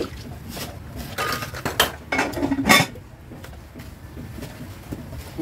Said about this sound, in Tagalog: Ayan, hugas lang tayo. Puro marumi yung pinggan.